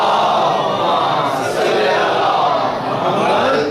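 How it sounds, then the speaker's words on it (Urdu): A congregation at a Muharram majlis in Dublin recites salawat together, a loud, dense mass of voices chanting in unison that fills the whole stretch without pause. "صلوات پڑھیے محمد اور آل محمد"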